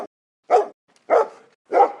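Dog barking, four short sharp barks evenly spaced about half a second apart, close and loud with silence between them.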